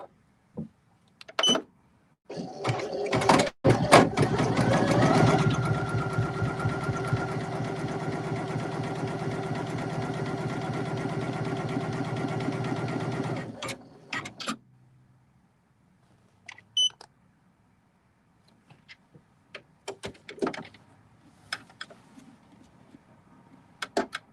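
A Poolin EOC06 single-needle embroidery machine stitches a patch, a loud steady mechanical whir with rapid needle chatter running for several seconds, then stopping, followed by scattered quiet clicks and a few beeps.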